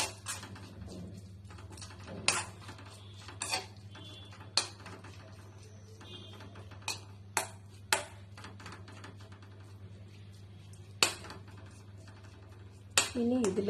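Green chillies and curry leaves stirred in a pan for wheat bread upma: scattered sharp spoon clinks and taps against metal, spaced irregularly over a quiet background, alone without talk.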